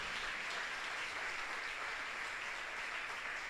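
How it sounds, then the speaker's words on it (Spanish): A church congregation gives a thin, steady applause during a Sunday morning service, a soft continuous patter of clapping with no voices over it. "Está flojo ese aplauso."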